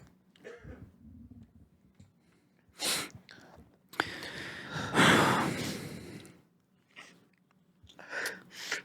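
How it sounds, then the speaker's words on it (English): A pet sneezes, giving a few short, soft breathy bursts with a stronger, longer one in the middle, heard close by in a quiet room. "Oh, he's sneezing."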